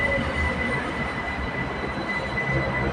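A BTS Skytrain on Bangkok's Silom Line runs along the rails, its wheels letting out a sustained high squeal over a steady rumble of the railcars, close and continuous, with no talking.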